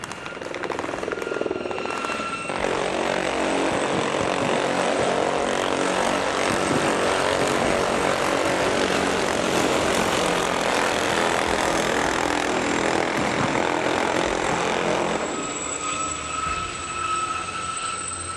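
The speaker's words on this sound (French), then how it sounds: "l'hélicoptère Gazelle, qui va vous survoler d'une minute à l'autre" A Gazelle military helicopter passes overhead, a loud continuous rotor roar and engine whine that swells and then eases slightly as it flies by.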